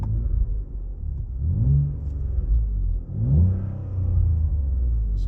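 Ford Explorer with a 3.5L V6 and MRT resonated axle-back exhaust revving off idle in park, two rising deep rumbling engine swells over a steady low idle, loud and close, heard from inside the cabin.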